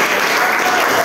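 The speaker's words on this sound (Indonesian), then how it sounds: "tepuk tangan dulu untuk semuanya" Dense, loud clapping from a group of ninth-grade students at a school science presentation, steady and continuous throughout with no voices standing out.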